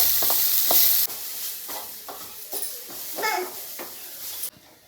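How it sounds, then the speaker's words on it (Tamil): Onion and carrot strips stirred and sautéing in a frying pan, a steady sizzle broken by repeated scraping stirs and light clinks of utensil on metal. "வெங்காயமும் கேரட்டும் நல்லா வதங்கிடுச்சு."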